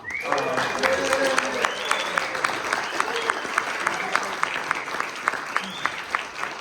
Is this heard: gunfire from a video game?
no